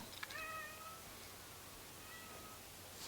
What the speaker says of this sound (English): You guys hear my cat in the background?